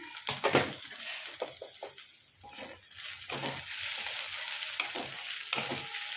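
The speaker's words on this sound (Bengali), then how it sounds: "ফিরে আসছি আলু পেঁয়াজ ভেজে নিয়ে" Potatoes and onions fry in a pan with a steady, close sizzle, and a few stirring scrapes break through near the start.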